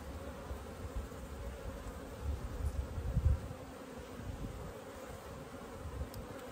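A steady swarm of bees buzzes around an open beehive during a late-season inspection, a close continuous hum that swells briefly in the middle, with no talking.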